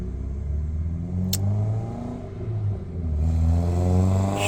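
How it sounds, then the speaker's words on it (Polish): A small car engine hums and revs up and down, a low buzzing motor sound that swells louder toward the end. "Śmieszny ten samochód, mały, pierdzący."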